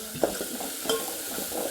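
Masala for mutton curry fries in oil with a close, steady sizzle, broken by two or three quick scraping stirs of a spoon in the pan.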